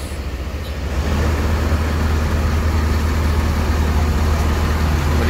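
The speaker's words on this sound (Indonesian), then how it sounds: "Kondisi mesin udah hidup." A Rosalia Indah bus diesel engine idles steadily, a low continuous rumble that swells slightly after the first second and then holds even and close.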